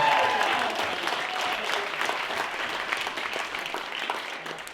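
A wedding reception crowd claps after a speech, steady dense applause that starts loud and slowly tapers off over several seconds, with no talking.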